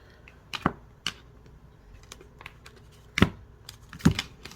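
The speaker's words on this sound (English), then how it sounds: "So, that's the way to shuffle." Tarot cards being shuffled by hand, a soft ruffle of card edges broken by sharp slaps and taps that come in uneven bursts, recorded close and quiet with no talking.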